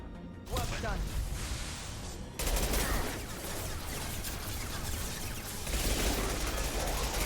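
Rapid machine pistol gunfire in the video game Mass Effect 2, dense bursts of loud shots running almost continuously over a busy combat mix, with a brief quieter moment at the start.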